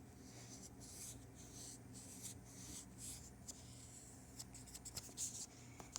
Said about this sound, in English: And then you draw a leafy pattern.